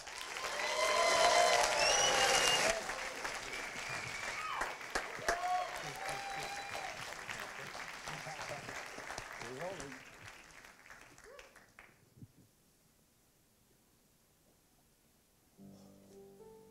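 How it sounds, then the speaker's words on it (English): Audience applause for a piano performer at a business school talent show, loud dense clapping at first, then thinning and fading to near silence with a brief stir at the end; voices murmur through it. "Can I ask a warm applause for David Schmidt?"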